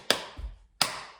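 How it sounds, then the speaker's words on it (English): Two sharp claps, crisp and close, about seven tenths of a second apart, laid into a pop music track, with a short low thump falling between them and nothing else playing. "I'm gonna add some claps."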